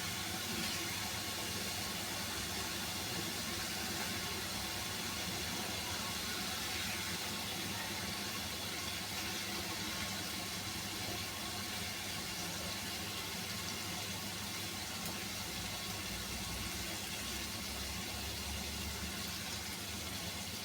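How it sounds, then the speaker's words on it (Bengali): Fish roe, already fried and broken into pieces, sizzles with spices in a pan in a steady, even hiss that holds for the full length with no talking. "এই মশলাটার সাথে ভালো করে কষিয়ে নেব"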